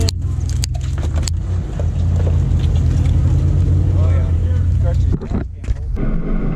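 Toyota Land Cruiser crawling off-road up and over a rock on a rough track, a heavy, loud engine rumble with rattles and clunks, easing off near the end while voices speak over it.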